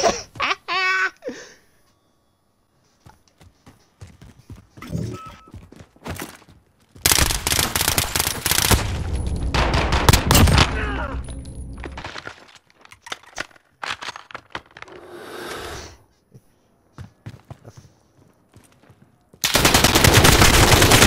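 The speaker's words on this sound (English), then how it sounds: "I got some nice recoil with this fucking gun, by the way." Automatic gunfire in Call of Duty Modern Warfare, loud rapid bursts of shots at close range separated by quieter stretches, with voices and laughter heard between bursts.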